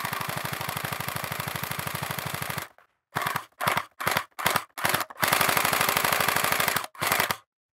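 An SRB1200 gel blaster fires on full auto nearby, a long rapid mechanical rattle followed by several short bursts and another sustained string of fast, even shots.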